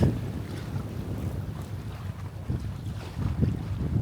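Sailboat moving under sail with its engine off, steady wind rushing across the microphone and water sloshing against the hull, continuous and fairly loud with no voices.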